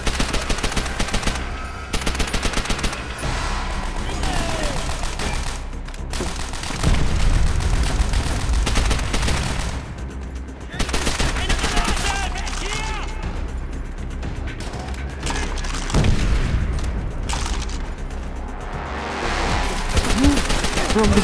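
Machine-gun and rifle fire in the video game Call of Duty: World at War rattles in repeated bursts with booms, dense and loud throughout, with voices shouting in between.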